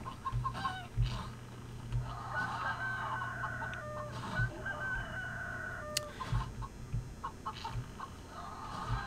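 Chicken squawks and clucks repeat in short bursts for a squawk attack in the video game CHKN, over a steady low hum and game effects.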